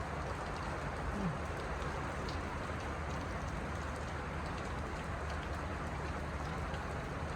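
Heavy rain pours steadily on an open farm field, a dense, even wash of noise held at constant loudness throughout with no pauses or distinct drops.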